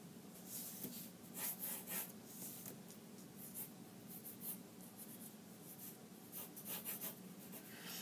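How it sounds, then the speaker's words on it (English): A pen scratches across paper in quiet strokes, with short bursts of rubbing and a few quick taps in an irregular rhythm, close and faint with no talking. "Let's draw another one."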